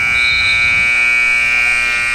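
A loud, sustained electronic buzzer sounds at the end of the first quarter of a Penn State women's basketball game, a steady harsh tone with faint crowd noise beneath it.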